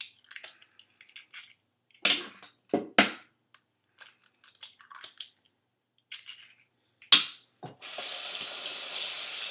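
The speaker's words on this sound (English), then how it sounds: "Wash my hands because I got a little egg on them." Hands are washed in a kitchen sink after cracking eggs, with short bursts of splashing and rubbing under a tap, then running faucet water begins near the end and flows steadily.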